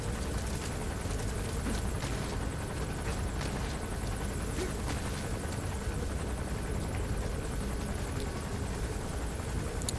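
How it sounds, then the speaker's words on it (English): A helicopter landing in Metal Gear Solid V: The Phantom Pain, a loud steady rotor and engine roar filling the whole stretch without a break. "The chopper will land right there and sit for ever, maybe."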